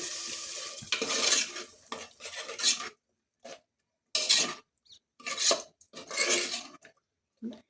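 Palak rice mixture stirred in a pan, with intermittent scraping and rasping bursts of a spoon against the metal, separated by short silent gaps.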